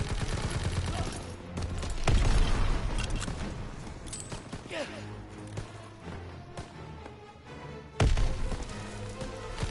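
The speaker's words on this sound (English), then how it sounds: "Lobbing a grenade!" Gunfire and a grenade blast in Call of Duty: WWII, dense rattling bursts of rifle and machine-gun fire with heavy booming impacts, loud and close, the loudest crashes near the start and again toward the end.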